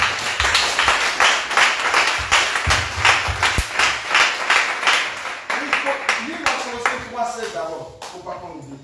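Congregation at a church service clapping in a steady rhythm and calling out in acclaim, a dense, lively wash of hands and voices filling the room for several seconds.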